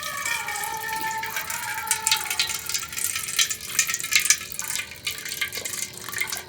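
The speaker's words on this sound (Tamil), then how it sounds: "நாங்கள் இப்போ தெளிஞ்ச தண்ணியாக ஊற்றுவோம்" Clear water is poured off soaked odiyal flour, a steady trickling and splashing up close with a few brighter drips and spatters toward the middle, and no voices.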